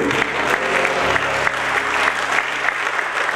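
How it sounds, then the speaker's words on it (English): A church congregation claps during a Sunday sermon, a loud, full burst of many hands clapping steadily with a few voices faintly mixed in. "Yeah, you can clap."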